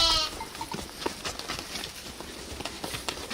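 A sheep in an animated Hindi story, hungry, thirsty and weakened after three days tied in a courtyard, gives a short high bleat at the start, followed by faint scattered clatter and rustling.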